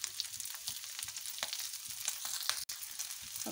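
Chicken liver frying on a tawa over very low heat, a soft continuous sizzle with small crackling pops, quiet and close.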